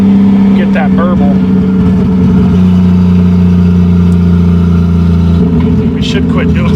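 Exhaust of a MK3 Supra with a naturally aspirated-to-turbo 2JZGE swap, a loud steady drone with rumbling burble running through, close up, with brief talk from people nearby.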